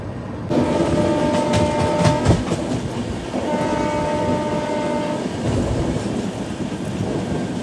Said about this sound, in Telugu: మన ట్రైన్ రాజమండ్రి నుంచి కూడా స్టార్ట్ అయితే అయిపోయింది